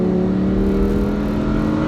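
A 602bhp Lamborghini Huracan engine drones with a steady, smooth, Audi-like tone, close and loud, holding an even pitch with no talking.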